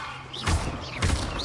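Levioso levitation spell cast in the Hogwarts Legacy video game, a pair of soft magical whooshes with low thuds and rising shimmering tones, moderately loud over a quiet background.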